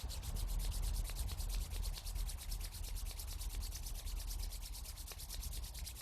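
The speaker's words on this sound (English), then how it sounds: "Let's rub the palms." Palms rubbing briskly together during a yoga session, a steady close-up friction hiss with fast even strokes running continuously at moderate loudness, no talking.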